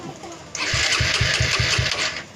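A motorcycle engine is turned over with the electric starter and catches, running with a steady rhythmic chugging close by while people talk over it.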